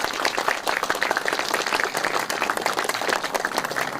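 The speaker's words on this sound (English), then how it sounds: "I'd like to give you another round of applause for the 3 of you" An audience at a 9/11 memorial ceremony in Springfield gives sustained applause, a dense and even wash of many hands clapping at close range that holds steady with no speech on top.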